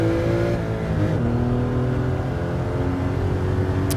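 A Porsche 911 Carrera RS (964) engine in Gran Turismo 7 drones loud and steady, its pitch dipping and climbing through a gear change before rising again at full throttle.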